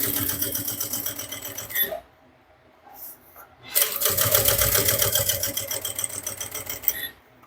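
A sewing machine stitches a fabric handbag in steady rapid bursts, running loudly, pausing for about two seconds, then running again close up, with brief handling noises in between.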